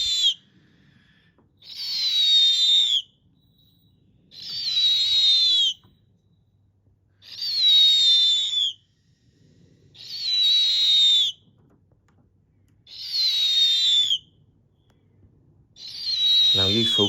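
A snowy owl repeats a high, sliding whistled call six times at a steady pace of about one every two to three seconds, each lasting over a second, clear and close against a quiet background.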